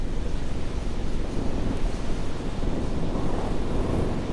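Falcon 9 rocket ascent in Kerbal Space Program, a steady, loud broadband roar that rumbles on without a break, with no voices heard.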